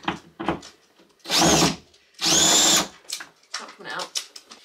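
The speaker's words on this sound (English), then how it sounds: "Is this the unscrew way or the screw way?" A power drill unscrewing screws while a new front door is fitted, heard as two loud whirring bursts of about half a second each, close up, between stretches of talking.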